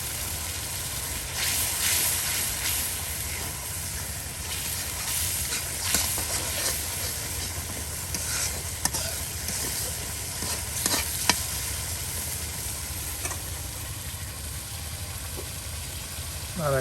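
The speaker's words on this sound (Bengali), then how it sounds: "কত সুন্দর করে এই যে মশলাটা কষানো হচ্ছে" Spice paste stir-fried in a pot for a country chicken and yam curry, giving a constant hissing sizzle with scattered scrapes and clinks of the stirring spoon throughout, close and moderately loud.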